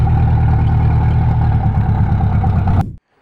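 A loud car engine of a Nissan 240SX with broken header bolts roars with a rough, rattling idle and a raspy exhaust clatter, then cuts off abruptly into silence.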